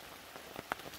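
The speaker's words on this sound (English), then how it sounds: "there is some rain, but it's basically like a drizzle" Light drizzle patters on the forest canopy above a tarp campsite in the woods, a soft, steady hiss with scattered close drops tapping through it. There are no voices.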